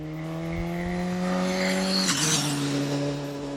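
Race replica superbike with an under-and-over baffle exhaust, the engine wailing loudly as it climbs through the revs, then a sharp quick-shifted gear change and a drop in pitch, close by with no talking.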